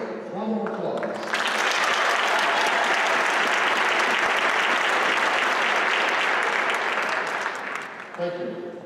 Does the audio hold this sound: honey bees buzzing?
no